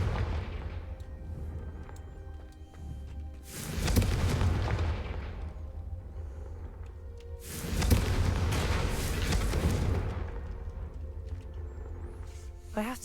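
Two loud, booming spell blasts from the Confringo fire spell in Hogwarts Legacy, each a sudden burst with a roaring, crackling tail lasting a few seconds, spaced about four seconds apart over low ambient hum.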